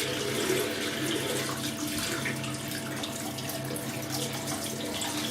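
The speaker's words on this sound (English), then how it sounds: "So I'll get the brush wet." Tap water running steadily into a sink while a shaving brush is wetted under it, a close, continuous splashing rush with no talking.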